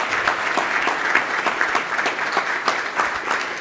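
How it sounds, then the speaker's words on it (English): Conference audience at FinOps X 2024 gives a panel a sustained round of applause, dense steady clapping from a large crowd throughout. "Please provide a FinOps over budget round of applause for Eric, Deana, Tammy, and Kyle"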